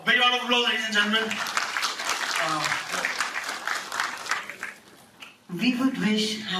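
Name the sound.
audience applause at an awards ceremony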